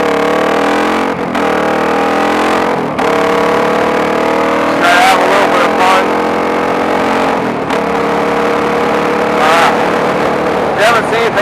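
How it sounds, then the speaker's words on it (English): A 2001 Suzuki DR-Z400 converted to supermoto trim is ridden toward jumps on an abandoned golf course. Its single-cylinder engine sounds close and loud, its pitch climbing and falling through repeated revs, with brief buffeting gusts. "I'm riding a DRZ 400. It's a 2001 model, but it's been converted to a SuperMoto setup"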